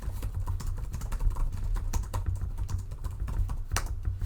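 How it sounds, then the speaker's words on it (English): Continuous rapid typing on an HP ENVY x360 laptop keyboard, close and steady, with irregular clicks and a few louder key strikes, over a low background hum. "I really do like the typing experience. So let's just I don't know. Let's type something"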